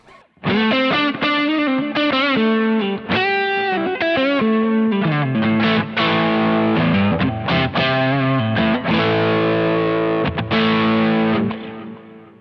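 Distorted electric guitar through a pedalboard into a Kemper profiling amp plays a fast, driven riff with sustained chords and quick note runs, loud and continuous, ending in a ringing decay.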